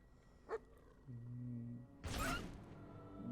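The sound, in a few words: dog barking in the video game Fable 2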